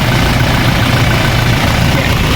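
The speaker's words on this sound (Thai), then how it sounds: "เครื่องยนต์ยังนิ่งๆอยู่เลยครับ" The stock 2.4 engine of a used Toyota Revo cab pickup idles loudly and evenly up close, a continuous dense diesel-like drone with no speech over it.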